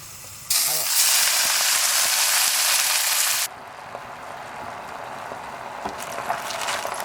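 Spinach dropped into a pan of browned garlic bursts into a loud, steady sizzle for about three seconds, then drops to a quieter, continuous frying hiss over low heat.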